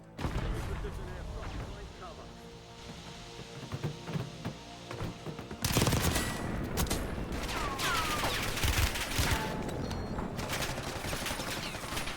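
Gunfire in the video game Warzone 2.0 on Rebirth Island, with scattered shots at first and then a dense stretch of rapid bursts and fusillades, some close and loud, others more distant.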